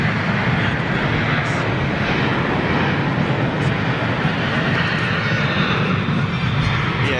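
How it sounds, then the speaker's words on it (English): Noisy old Turkish Boeing 737 departing Dusseldorf airport, a loud continuous broadband jet roar with rumble and rushing noise, steady throughout, heard from the airport perimeter. "noisy old 737 from Turkish going out"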